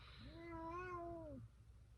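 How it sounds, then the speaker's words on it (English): A single cat meows once, a clear drawn-out tonal call lasting about a second, heard alone against quiet room background. "Can you go let the cat in?"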